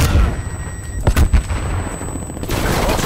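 Sentry turret gunfire erupts in Call of Duty Black Ops Cold War on the Crossroads Strike map: a short burst of sharp, loud shots over a low rumbling backdrop, with electronic tones and game noise around it.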